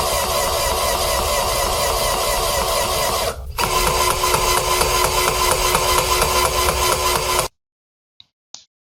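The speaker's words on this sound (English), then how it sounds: "Chemical pumps. Take a listen to these pumps." Chemical pumps in a commercial laundry run with a steady mechanical hum and whir, dropping out briefly midway before resuming, then cutting off near the end, leaving a couple of faint clicks.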